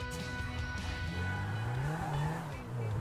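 A race car speeds through a racing video game, its engine droning and rising and falling in pitch as it accelerates, loud and continuous with no talk.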